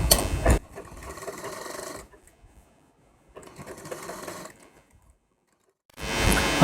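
A sewing machine stitches a princess-cut blouse seam in three close mechanical bursts of rapid, even needle clatter, separated by short quiet pauses.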